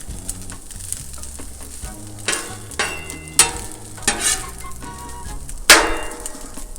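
Cheese frying in oil on a Blackstone griddle, a steady close sizzle with scraping strokes and sharp spatula knocks at intervals, no voices.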